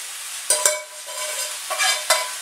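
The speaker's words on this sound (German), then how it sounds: "Und alles nochmal miteinander verrühren." Chicken and vegetables being stirred together in a large frying pan, with a steady sizzle broken by a few sharp scraping strokes of the utensil. No one speaks.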